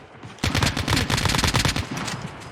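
Rapid automatic gunfire from the Call of Duty Mobile game, a dense burst of repeated shots starting abruptly and continuing steadily for about a second and a half before tapering off, loud and close with no speech over it.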